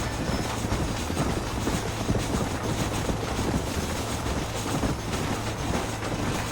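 Steam train engine in Red Dead Redemption running at close range, a constant heavy roar with rattling wheels and clattering rhythm, unbroken and without speech.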